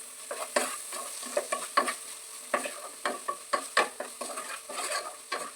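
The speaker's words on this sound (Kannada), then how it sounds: "ಮಸಾಲೆ ಎಲ್ಲ ಮಿಕ್ಸ್ ಮಾಡ್ಕೊಳ್ಬೇಕು" Masala being stirred into dal tadka in a pot: a quick, rhythmic run of spoon scrapes and light clinks, close and fairly quiet, over a low simmer with no speech.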